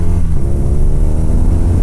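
A steady engine drone from a BMW R nineT motorcycle cruising on a motorway in sixth gear at 70, low and continuous, holding an even pitch, with no voices.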